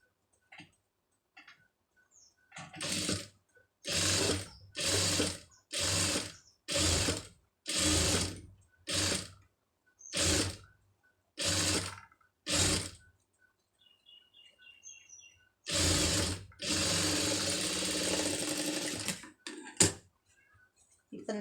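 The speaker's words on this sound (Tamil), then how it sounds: "இதில் வந்து சுற்றி வந்து தையல் வந்து போட்டுருங்க" A sewing machine stitches around a puff sleeve in repeated short mechanical bursts, about a dozen evenly spaced runs with brief pauses between them, then one longer run near the end, close and clear with no talking.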